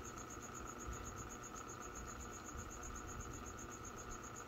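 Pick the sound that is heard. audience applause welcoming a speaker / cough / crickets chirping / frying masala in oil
crickets chirping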